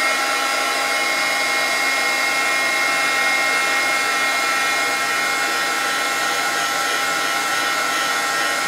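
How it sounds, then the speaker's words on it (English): A hair dryer blows steadily on paper during an image transfer, a loud, constant whirring rush that never varies and has no talk over it. "So I'm actually going to blow this dry to show you how it goes cloudy."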